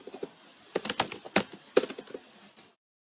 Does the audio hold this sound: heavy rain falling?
no